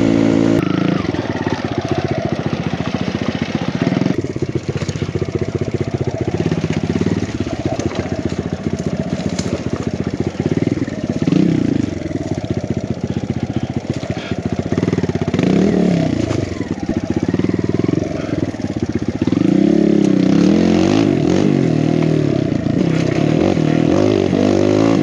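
A big-bore Kawasaki KLX140RF dirt bike ridden at a steady cruise, its single-cylinder engine buzzing and rising and falling with the throttle, loud and close throughout, with wind and clatter mixed in.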